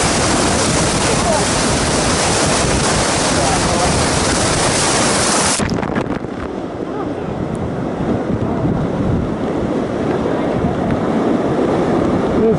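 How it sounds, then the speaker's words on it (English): Grand Canyon river rapids roar loud and close throughout a rafting run, with a dense broadband rush of churning water and wind buffeting the microphone, briefly dipping midway before carrying on unbroken. "This is our last rapids before we pull in for camp, which will be just below the rapids."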